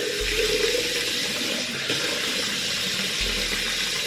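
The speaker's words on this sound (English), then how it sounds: "I'm just running a little bit of water" Steady stream of water running from a household tap, a continuous close hiss and splash with no voices.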